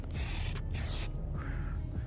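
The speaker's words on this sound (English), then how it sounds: "You can adjust the spray by pulling it back or forward, and how thick you want the spray." Short bursts of a pressurized spray nozzle spraying rinseless car wash solution hiss on and off close by, a soft misting sound in repeated pulses.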